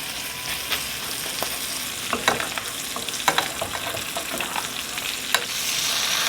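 Garlic frying in a pan, heard as a continuous close sizzle with scattered pops and light stirring clicks. It stays fairly steady and grows slightly louder toward the end, with no speech.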